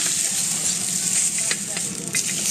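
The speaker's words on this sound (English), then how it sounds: "We seal the meat. We simply release it, caramelizing. Let me release the steak from the stone." Australian Grade 7 Wagyu fillet steak sizzles loudly and steadily on a hot stone, a close bright hiss with occasional crackles and no speech.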